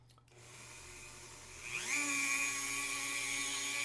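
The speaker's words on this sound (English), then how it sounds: "I'm going to go ahead and start sanding here real quick." A Dremel rotary tool spins up to a steady high-pitched whine as it starts sanding a toy part, the motor tone rising and then holding close and loud.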